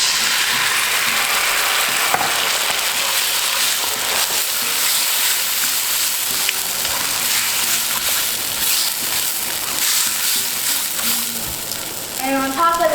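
Tomatoes hit a pan of diced fried food and sizzle steadily and loudly throughout, with stirring scrapes and a voice talking over the frying.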